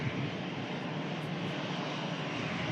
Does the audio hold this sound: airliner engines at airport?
yes